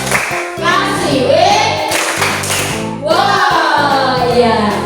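Fifth-grade schoolchildren in a classroom clap a rhythmic cheer pattern in loud, bursting sections, with their voices calling out together over the claps.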